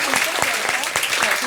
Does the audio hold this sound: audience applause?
yes